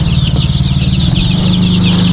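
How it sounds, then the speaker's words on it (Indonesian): Arab rooster chickens cluck in a steady, dense chorus close by under a low farmyard hum, with no voices. "ini ayam Arab pejantan"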